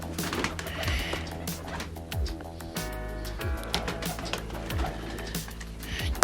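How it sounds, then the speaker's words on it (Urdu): A loft of Kashmiri pigeons of a single bloodline cooing in soft repeated low coos, with faint chirps and clicking around them, fairly quiet and close. "یہ سارے ایک ہی بلڈ لائن کے کبوتر ہیں"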